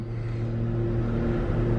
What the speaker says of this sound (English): That's the lawnmower man.